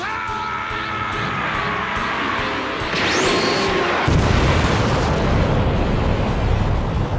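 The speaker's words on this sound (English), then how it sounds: "Feast your eyes on Super Vegeta's Big Bang Attack!" Super Vegeta's Big Bang Attack in Dragon Ball Z anime lets loose as a loud, sustained energy blast that erupts into a heavy rumbling explosion, with a rising whoosh before the boom and no talk over it.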